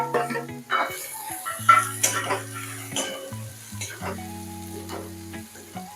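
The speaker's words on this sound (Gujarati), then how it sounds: "અને ડુંગળીને કકડતા 10 થી 15 મિનિટ થશે." Chopped onions fry in a pan with crackled cumin seeds for rajma, a close, steady sizzle broken by clattering stirs against the pan, with tonal background music running underneath.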